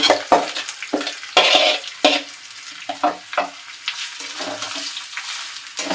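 Rice for basanti pulao is stirred in a pan of hot oil, the spoon scraping in irregular bursts over a soft, steady frying hiss.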